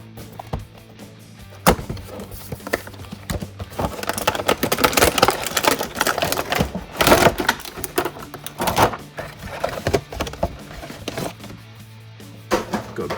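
A knife cuts and tears open the cardboard and plastic packaging of a Mattel WWE Elite toy figure, giving close, irregular bursts of scraping, crinkling and snapping with a few sharp knocks and quieter pauses.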